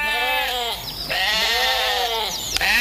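Cartoon sheep bleat in a wavering, harmonic series of calls, several overlapping bleats filling the short moment close and clear with no talking.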